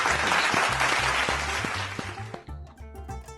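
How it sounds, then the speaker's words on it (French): An audience applauds Putin with dense clapping that fades toward the end, heard under music that carries a repeating low beat and sustained tones throughout. "Applaudissons encore pour Poutine."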